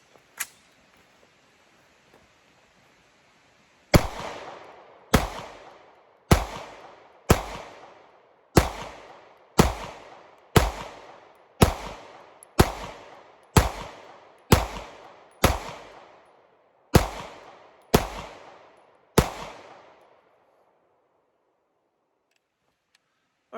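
A Sig P320 Zev pistol fires about fifteen sharp, evenly spaced shots, each with a short ringing decay, heard clearly after a few seconds of quiet.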